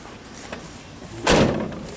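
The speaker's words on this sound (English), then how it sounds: "Ooh, that door closes nice." The door of an old Ford F100 pickup, left sitting for seven years, shuts with a single solid, close thump and a brief rattling decay, set against quiet background hiss.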